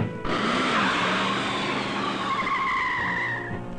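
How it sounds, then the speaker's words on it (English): A Ford engineering prototype car from 1969, hand-assembled, skidding as it is spun around curves: a loud, sustained tire squeal with wavering pitch over engine roar, close and unbroken for several seconds. "To be tested far beyond the limits of normal driving. Raced. Spun around curves."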